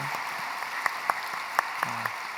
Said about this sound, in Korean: 우리 싱글들 격려한 박수 합시다.